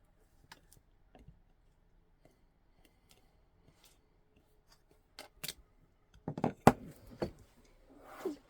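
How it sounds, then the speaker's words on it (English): Scissors snipping through white card at a craft table, a scatter of faint isolated clicks early on, then a cluster of louder close cuts and rustles toward the end. "And then cut it out"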